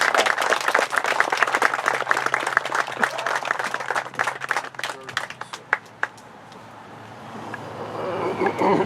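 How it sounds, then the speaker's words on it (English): Audience applause at a Memorial Day service, dense clapping that thins into scattered individual claps and fades, leaving quiet outdoor background rumble. "May we have a big round of applause for Lieutenant Colonel Gerald."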